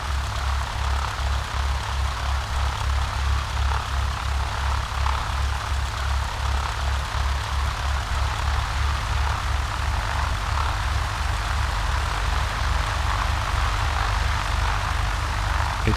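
Propeller aircraft taxiing at Creswell Airport in a flight simulator game, a steady droning engine hum with a low pulsing throb, constant and unbroken, no voices.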